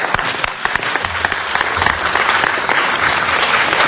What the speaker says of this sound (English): Give them a big hand right there.